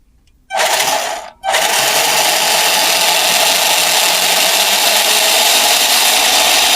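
Small electric motor of a Danchee Trail Hunter RC rock crawler whirs with a steady high whine; a short burst is followed by a pause, then a continuous, loud run.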